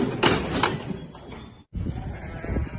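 Sheep bleat on a farm during winter scanning of ewes, with several overlapping calls in the first half-second and a busy livestock murmur after a brief gap.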